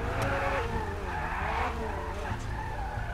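A car in Grand Theft Auto V skids with a sustained tire squeal over a revving engine, close and continuous, with speech faintly underneath.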